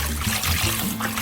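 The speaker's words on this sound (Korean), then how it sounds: "쑥 캤으면 한번 헹궈줘야 돼요" Freshly picked mugwort rinsed in water for a rice cake, giving a steady close trickling and splashing wash with a low hum beneath, and no talk.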